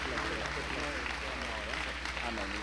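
A church conference audience applauds as a pastor is welcomed, a steady wash of clapping beneath a voice talking over it, with a low electrical hum underneath.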